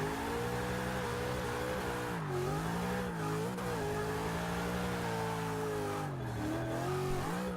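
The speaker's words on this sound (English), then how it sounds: "This truck is a blast to drift, guys." A low-horsepower truck drifting in the racing game Forza Motorsport 6: a continuous loud engine drone that rises and falls in pitch with throttle, overlaid by a constant hiss of tires sliding, with no talk.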